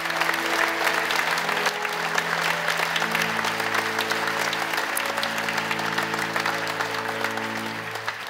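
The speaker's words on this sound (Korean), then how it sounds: "다시 한번 큰 박수로 축하해 주시겠습니다." Congregation applauding in a church during an elders' ordination service, steady sustained clapping throughout with no break, while a low organ-like tone holds underneath.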